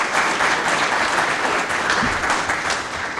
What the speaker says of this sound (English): that applause was doubtless for the popular answer that Mr. O'Neil gave to the most recent question